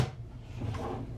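A drawer in a Newmar Grand Star 3444 Super C motorhome slides open or shut with a short, close, muffled rumbling glide and soft knock.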